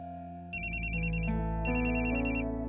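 A mobile phone rings with an incoming call, a bright electronic melody of quick repeating notes that starts suddenly and plays two phrases, loud and close, with no speech over it.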